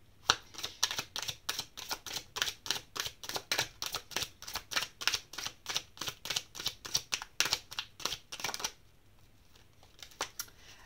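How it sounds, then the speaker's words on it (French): Tarot cards are laid out one after another for a reading, a rapid run of crisp snapping slaps and flicks that stops abruptly, followed by a couple of faint taps in quiet. "Je vais poser toutes les cartes pour faire le tirage au complet"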